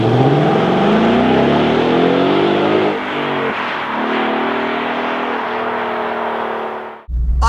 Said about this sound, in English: you hear the rumble of this car